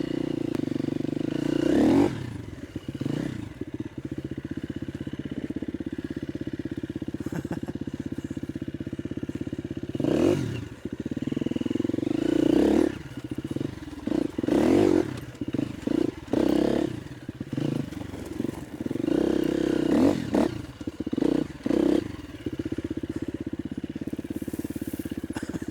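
A KTM 250 EXC-F four-stroke dirt bike rides a hard enduro practice spot off-road, its engine droning steadily with repeated revs and clattering bursts over rough ground for the whole stretch.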